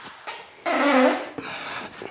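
A person breaks wind during a chest workout at the gym: a loud, rasping fart that peaks briefly, then trails off into a softer, sputtering tail.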